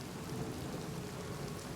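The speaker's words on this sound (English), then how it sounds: "If it wasn't for the fact it was raining," Steady rain pours across a night landscape in the video game Oblivion Remastered, a dense, even hiss that holds at the same loudness throughout, with a low rumble underneath that may be distant thunder.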